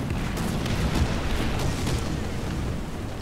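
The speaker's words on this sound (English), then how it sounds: "Now I'm driving through my own artillery." Continuous heavy rumble of artillery fire and explosions around a driving M4A3 Sherman (105) medium tank in War Thunder, with dense low booms and crackling bursts running steadily throughout.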